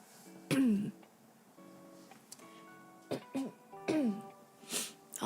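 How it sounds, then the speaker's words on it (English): Throat clearing by a streamer who has stepped back from the microphone, heard as three rough, separate bursts spread across the stretch, fairly soft and a little distant, with a faint hum in the background. "I'll try to move away from the mic to clear my throat"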